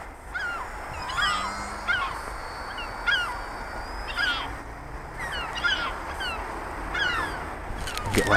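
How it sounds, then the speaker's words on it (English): Gulls calling repeatedly outdoors in light wind, a series of sharp squawking cries near and far over steady breezy background noise, with a brief spoken voice. "Shut up, seagulls."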